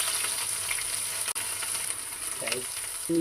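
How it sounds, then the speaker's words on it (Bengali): Onion, garlic and ginger paste hits hot oil and fries with a soft, steady sizzle, a faint clatter of stirring and a short spoken remark near the end. "এবারে তেল দিয়ে দিচ্ছি এর মধ্যে পেঁয়াজ বাটা আর রসুন বাটা আদা বাটা দিয়ে দিলাম"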